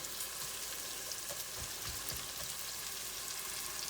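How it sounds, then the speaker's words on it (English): Onions frying in a pan over a gas flame for tomato basil soup, a steady close sizzle with a few louder crackles and pops partway through, no talking. "our onions are getting a nice translucent, little bit of brown to them"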